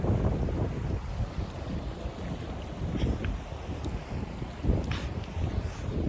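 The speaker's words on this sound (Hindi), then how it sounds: "हवा चल रहा है यहाँ पे बहुत तेज" Strong wind in the Himalayas beside the Gandaki river buffets the microphone with a continuous low rumbling roar that swells and eases in gusts, with no voices present.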